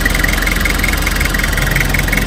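A car engine idles steadily up close, a loud, even mechanical hum with a faint knocking pulse running through it, with no voices over it.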